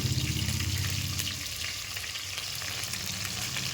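Onions, green chillies and kasuri methi fry in hot oil for tomato rice, giving a steady, close, loud sizzle with no talking over it.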